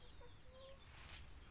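A few soft chicken clucks and short calls sound faintly at a distance over outdoor background noise in a rural yard beside a chili garden.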